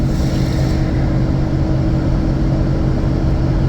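A roughly 50-year-old GMC motorhome cruises down a highway at 50 mph, its cabin filled with a loud, constant low road and engine rumble and steady wind noise, with no speech.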